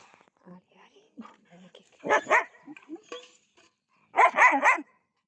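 A dog barks in two loud bursts of rapid barks, close by, separated by quieter moments with faint voices in the background.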